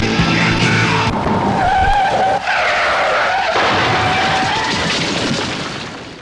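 A car skids loudly with a long tire squeal and screech, followed by a boom-like crash impact, presented as a sound effect in a radio auto repair advertisement, close and dominant with no talk.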